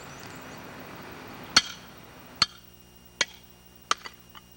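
A hammer strikes the spine of a tanto knife, driving it into a concrete block: four sharp, ringing metallic blows spaced under a second apart, followed by a couple of smaller taps, over a quiet background.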